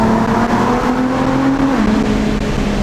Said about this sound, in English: when you go under the bridge downshift